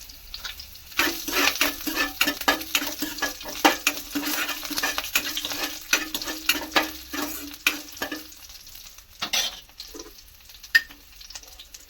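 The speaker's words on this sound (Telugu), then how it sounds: "దీన్ని బాగా వేయించేసుకోవాలి." Green chillies fry and sizzle in a pan for restaurant-style tomato dal, with repeated stirring scrapes and clinks of a utensil against the pan, then the stirring stops and a few soft knocks follow.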